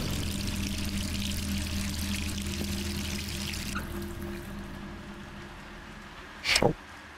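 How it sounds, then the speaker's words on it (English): A tap left running in Resident Evil 3 pours a steady stream of water over a low ambient drone, ending with a brief louder splash near the end. "Who left the fucking water on?"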